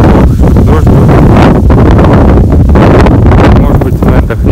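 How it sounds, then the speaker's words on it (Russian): Strong wind blows by a lake along a village road, buffeting the microphone in a loud, continuous roar with gusty rustling throughout. "Ну вот, ветер дует."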